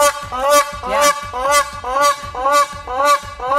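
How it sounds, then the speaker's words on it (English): A crowned crane calls loudly and repeatedly with honking, trumpeting notes in a steady rhythm, close by, at a zoo. "African crown cranes were kept by pharaohs as guards"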